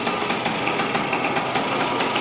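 A 1973 Yamaha CT3 175 motorcycle idles just after starting, a rapid, even single-cylinder patter that runs close and loud the whole time.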